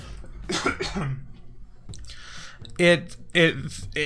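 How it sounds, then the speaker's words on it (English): Two short, loud coughs near the end follow some brief speech and quiet shuffling. "I'm about to cough."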